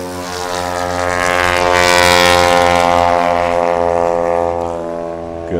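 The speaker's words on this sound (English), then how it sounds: "Good looking takeoff from Jeff Harrell." A STOL light aircraft's engine drones steadily at full power during its takeoff roll at the Pony Express STOL competition in St. Joseph, Missouri. The sound is loud and continuous and swells slightly in the middle.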